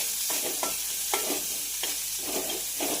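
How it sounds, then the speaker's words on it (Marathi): Finely chopped garlic, spring onion and green chili frying for a bottle gourd soup, a loud close sizzle punctuated by regular spatula-stirring bursts. "बारीक चिरून घेतलेला लसूण कांद्याची पात आणि अगदी बारीक चिरून घेतलेली मिरची हे सगळं फ्राय करून घ्यायचं आहे आपल्याला छानपैकी"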